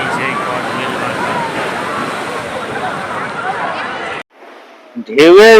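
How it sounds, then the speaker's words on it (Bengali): Sea waves break and wash ashore at Digha beach in a loud, continuous rushing surge that drops off near the end before a voice begins talking. "ঢেউয়ের কি সুন্দর স্রোত।"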